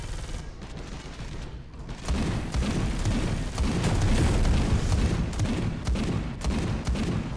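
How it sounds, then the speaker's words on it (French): Shotgun blasts in Space Hulk Deathwing, booming heavily and repeatedly over a dense, noisy background of gunfire and rumble, loud and continuous throughout. "mais ce fusil à pompe, il est merveilleux"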